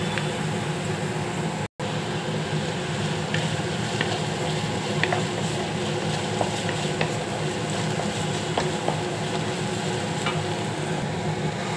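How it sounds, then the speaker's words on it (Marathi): Ginger and garlic fry with onion in a kadhai for kadhai paneer, giving a steady dense sizzle with faint clicking throughout, broken only by a very brief dropout early on. "आता मी त्यात टाकतोय अद्रक लसूण"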